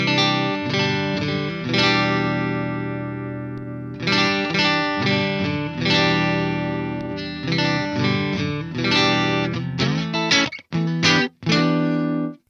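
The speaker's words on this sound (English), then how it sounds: "it almost feels like analog distortion compared to digital distortion." A heavily distorted metal electric guitar played through the MLC Sub Zero amp simulator by Bogren Digital chugs loud riffs with sustained chords, abrupt stops and choppy staccato hits near the end.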